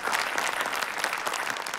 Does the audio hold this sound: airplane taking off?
no